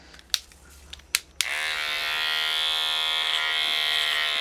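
Several sharp clicks come first, then an electric hair clipper fitted with a number one guard switches on and hums steadily during a skin fade haircut, a close, even buzz that keeps going to the end.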